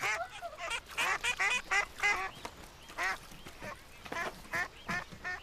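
Cartoon duck quacking in a French animated comedy scene, a run of repeated nasal quacks in quick bursts, fairly loud and close, with no one talking over them.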